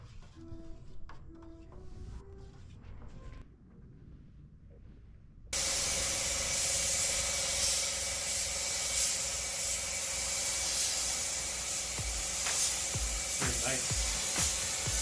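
A Harbor Freight Spectrum spray gun sprays automotive primer onto a sun-damaged Tacoma, starting abruptly as a loud, steady broadband hiss that runs continuously after a few seconds of quieter shop sounds.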